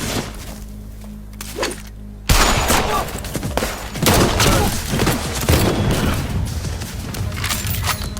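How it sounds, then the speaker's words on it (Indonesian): Gunfire from an action film shootout over a van, heard as bursts of loud shots and impacts that come in abruptly after a quieter opening and continue over a dense, busy soundtrack. "Nelson yang sedang memantau dari jauh, ia pun akhirnya menembak salah satu anggota Flat hingga pertempuran pun terjadi"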